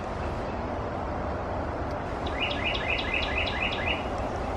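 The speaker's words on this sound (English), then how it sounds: "Very loud bird." A loud bird at an outdoor dinosaur theme park in Plant City, Florida gives a rapid series of about seven repeated sharp calls midway, over a steady broad rumble of background noise.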